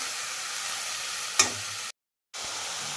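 Dill greens sautéing in a pan, a steady close hiss of sizzling with one sharp clink of a utensil, then a brief cut to silence before the sizzle resumes.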